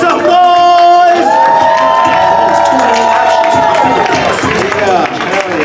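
A comedy club crowd at a Los Angeles stand-up show cheers, whoops and claps loudly and continuously, a dense roar of voices filling the room.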